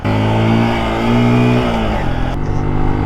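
A dual sport motorcycle's engine drones steadily while riding, loud and close with a sustained hum and a slight shift in pitch partway through, with no talk over it.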